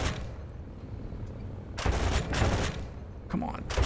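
Aircraft machine guns firing in War Thunder during a simulator dogfight in an FW190 or BF109, heard as loud rapid bursts that break out in a couple of clusters over a noisy engine bed.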